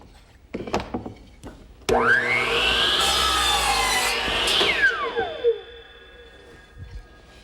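A power saw bites into wood with a loud whining screech that holds steady for a few seconds, then winds down as the blade spins to a stop.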